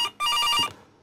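A telephone rings in the CASE Animatronics horror game: one short electronic ring burst followed by a longer, loud trilling ring that cuts off sharply, heard alone without talk.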